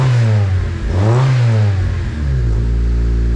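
A Nissan 240SX fitted with a dual-exit, high-flow exhaust revs up hard, its loud close engine note rising and falling in pitch twice before settling into a steady drone, with no speech.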